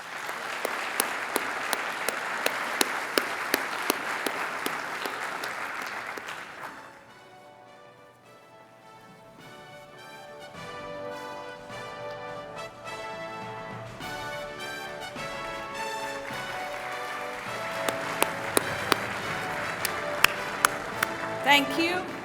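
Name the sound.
audience applause at an awards ceremony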